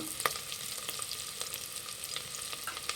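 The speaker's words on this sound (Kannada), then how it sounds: "ಇದು ಚೆನ್ನಾಗಿ ಫ್ರೈ ಮಾಡಬೇಕು" Onions, green chilies and peas fry in a pan for tomato bath, a steady close sizzle with scattered crackles and pops and a few louder spatters, heard alone without any voices.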